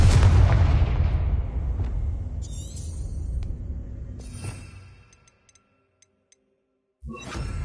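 A Confringo spell explosion in Hogwarts Legacy bursts with a loud, deep boom that rumbles and decays over several seconds, with a few faint sparkling ticks, then near silence before another loud impact hits at the end.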